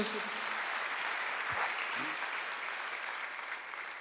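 A Korean church congregation applauds during a Sunday worship service, a steady wash of clapping filling the room for about four seconds, with a brief low voice near the middle.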